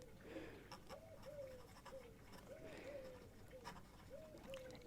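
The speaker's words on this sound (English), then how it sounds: "we've got some pigeons joining us as well, as all the birds wake up" Pigeons coo softly as birds wake up in the morning, a few repeated low, rolling calls spread across the clip, faint and distant over a quiet rustling background.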